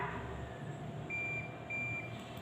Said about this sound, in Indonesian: Bunyi bip 2 kali pertanda seseorang dalam keadaan tidak sehat karena berada pada suhu di atas 37 derajat Celcius.